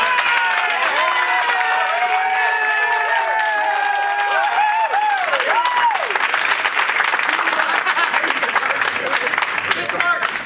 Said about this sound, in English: She deserves every clap.